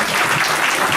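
Dense audience applause fills the whole moment, a steady wash of many hands clapping at even loudness with no other sound standing out.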